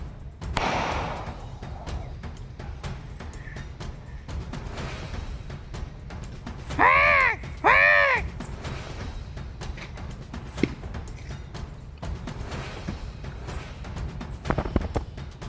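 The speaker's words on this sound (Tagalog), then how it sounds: "mga huni ng ibon at saka ng hindi ibon yung maririnig yun dito" Outdoor farm ambience with two clear, close bird calls in quick succession midway, over steady background noise and scattered faint clicks.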